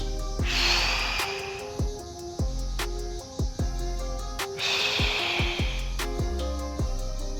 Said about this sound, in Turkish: İterken nefes veriyorum, inerken nefes alıyorum.